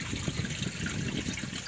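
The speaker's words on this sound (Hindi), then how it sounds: "ये ऊपर से गिर रहा है दोस्तों और ये आवाज़ सुनाई दे रहा है, लेकिन पानी दिखाई नहीं दे रही है।" Water falling from above inside a cave in Jharkhand, a steady close splashing and trickling wash with constant rushing hiss and no pauses.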